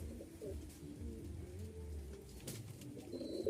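A pair of Lahori Shirazi pigeons coo in low, continuous, throaty rolls, close but soft, with a faint chirp near the end.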